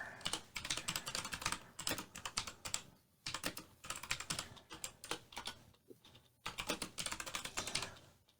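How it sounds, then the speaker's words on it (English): Rapid keystrokes on a computer keyboard come in bursts separated by brief pauses, close and clear with no talking. "let me just get a little type in here"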